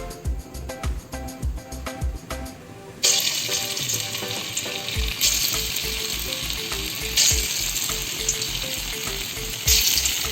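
Kola urundai balls drop into hot oil and start deep-frying, a loud dense crackling sizzle that starts abruptly and holds steady at close range, with faint rhythmic tapping underneath.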